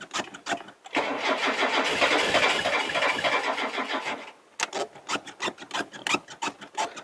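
An old, long-abandoned Mazda engine cranks and struggles to start, likely flooded with fuel. It gives a loud, continuous rapid churning for about three seconds, then several short broken cranking bursts follow.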